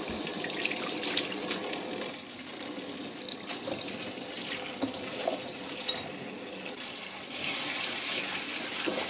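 Rose hips rinsed under a running kitchen tap, the steady splash of water into a sink continuing for several seconds with small clicks and knocks as the fruit is handled, and no talking.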